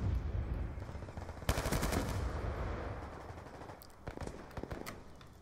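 Gunfire in Call of Duty Black Ops 2 against veteran bots: a sharp loud burst of rapid automatic fire, then scattered shots and game noise fading off, with a few closer cracks near the end.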